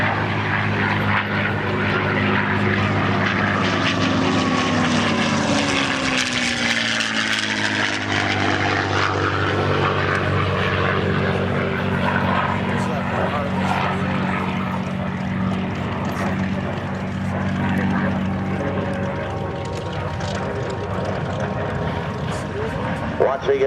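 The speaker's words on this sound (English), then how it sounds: "another photo pass by Mustang and the P-47" A P-51 Mustang and a P-47 WWII fighter make a pass at an air force base airshow, their propeller engines droning loudly and rising then falling in pitch as they fly by, under an announcer's voice.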